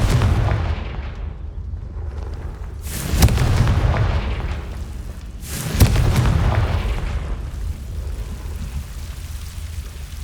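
Confringo blasting spell in Hogwarts Legacy, heard as two sharp booming explosions a few seconds apart, each with a crackling tail, over a rumbling ambient background.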